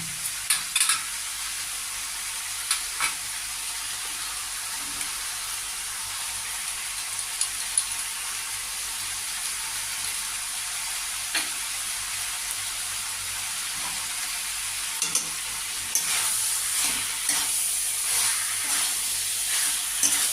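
Pumpkin and pumpkin stems stir-frying with poppy seed paste in a pan, a continuous soft sizzle with scattered scraping and clicking of a spatula, growing busier toward the end.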